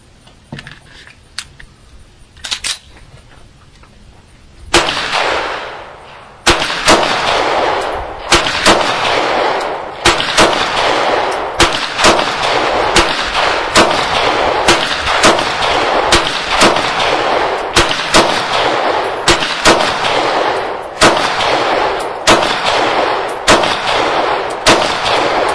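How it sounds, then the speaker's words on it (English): Glock 19 pistol firing USA brand ammunition outdoors: a few scattered shots, then a long steady string of loud, sharp, evenly spaced reports, around twenty in quick succession, with no talk. "I'm going to switch over to the Glock 19 and see how well it operates with this USA ammo"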